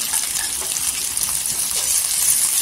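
Tomato with onion sautés in hot oil in a pan for puri bhaji gravy, giving a loud, close, continuous sizzle with a bright hiss and scattered small pops.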